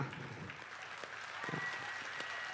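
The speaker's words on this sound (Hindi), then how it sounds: "इतनी तालियों से नहीं होगा ऐसा" Audience applause at a Hindi poetry recital by Hariom Panwar, a steady wash of many hands clapping from a crowd, moderately distant and even throughout.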